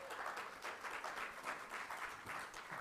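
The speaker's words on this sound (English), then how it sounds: "Let's give her a warm round of applause as she comes up to the stage." A conference audience gives faint, steady applause as a moderator walks up to the stage, a soft continuous patter of many hands heard from a distance.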